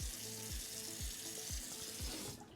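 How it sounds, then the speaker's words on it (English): Running water from a tap while a face is rinsed off after shaving with an alum block, a steady broadband rush with faint rhythmic thumps underneath, heard alone at moderate distance. "I'm just gonna rinse it off"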